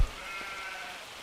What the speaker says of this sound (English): Naughty sheep.